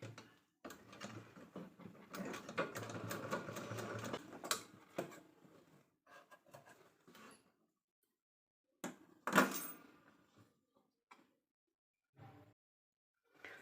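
A sewing machine stitches a zipper onto blouse fabric in short bursts of close mechanical whirring and clicking, broken by pauses and a few sharp knocks, fairly quiet overall.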